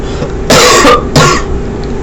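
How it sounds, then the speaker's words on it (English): Two close, sharp coughs in quick succession, the second shorter, standing alone over a faint steady background hum. "ignore the cough"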